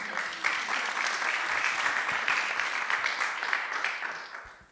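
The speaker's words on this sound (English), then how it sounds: "And one more round of applause for Antoine." An audience at a Startup Grind Montreal talk applauding the speaker Antoine, a dense, even round of clapping from many hands that fades at the end.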